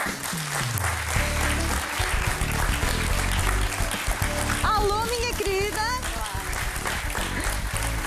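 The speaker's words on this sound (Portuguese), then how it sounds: "E vamos receber com um grande aplauso a Tânia." A crowd applauds steadily throughout, with a voice greeting warmly partway through over the clapping.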